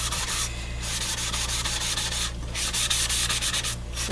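Sanding block rubbed back and forth over a painted wooden picture holder, a steady scratchy abrasion in rhythmic strokes with short pauses, close and alone.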